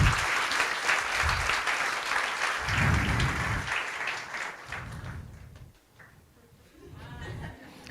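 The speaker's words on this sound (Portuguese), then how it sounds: "Uma salva de palmas para ela" An audience in a lecture hall applauds, dense clapping that stays strong for several seconds, then thins out and fades with a brief swell near the end, with faint voices underneath.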